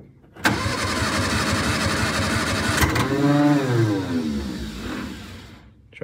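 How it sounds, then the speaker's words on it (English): An Austin-Healey Sprite pulled from a barn cranks on a cold start with the choke out, the starter churning steadily for several seconds before the engine tone rises and falls, close and loud with no talk. "hit the starter switch."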